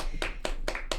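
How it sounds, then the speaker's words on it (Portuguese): Sharp, close handclaps sound in a brief, steady run of four claps during a Mother's Day gathering, each distinct and evenly spaced. "Vamos dar uma salva de palmas."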